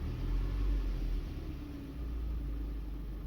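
A car engine settling down from a rev to idle after a PCV valve replacement, a low, fairly quiet rumble that eases off and stays uneven, with no talking.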